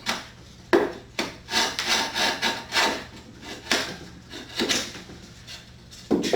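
The tip of a wooden tenon is trimmed by hand, giving a series of short, rasping scrapes and rubs in an uneven rhythm, close up and fairly quiet.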